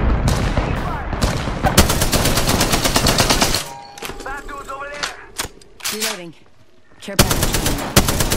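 Rapid automatic gunfire in the battle royale shooter Apex Legends, loud dense bursts at the start and end with a quieter gap holding in-game effects and a brief spoken callout.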